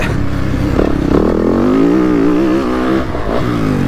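A motocross motorcycle on a dirt track roars loud and close, its engine rising in pitch under acceleration and then easing off as the rider brakes.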